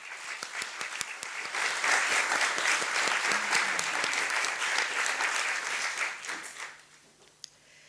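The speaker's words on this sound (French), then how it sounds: "je vous propose de les remercier en les applaudissant" Sustained applause from a conference audience at a plenary on ethics, health and disability, loud dense clapping with a few sharp individual claps, fading out near the end to quiet.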